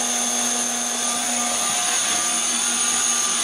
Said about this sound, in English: Man, indestructible Chinese motor.